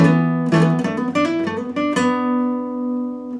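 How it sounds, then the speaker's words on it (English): A guitar introduction played at full tempo: a quick, busy run of picked notes resolving into a sustained ringing note, loud and unaccompanied. "The introduction played in real speed is going to sound like this."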